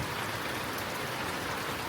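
Rain falling continuously during the rainy season in northern Thailand, a dense, even hiss of drops with no pauses and no talking.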